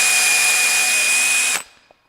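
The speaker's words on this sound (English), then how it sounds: "you can drill into your knob here" A power drill bores a hole into a knob while attaching a lever and dial, a loud steady high whine running about one and a half seconds before cutting off abruptly, with a faint click after.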